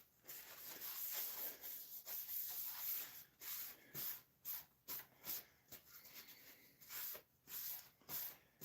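Cloth wiping finish onto a walnut jewelry box, faint soft rubbing strokes in a steady back-and-forth rhythm, close by and alone.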